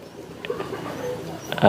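Racing homing pigeon breeding stock, a white-eyed bird, gives soft low coos in a brief close clip, with a louder burst of cooing or wing rustle at the end.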